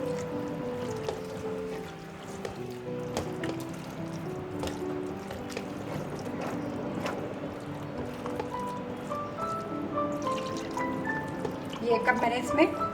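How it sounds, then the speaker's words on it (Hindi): Milk poured from a cup into a pot of chicken stock, a steady liquid pour over a few seconds with someone talking over it in a home kitchen. "ये कप मैंने इसमें दूध डाल दिया।"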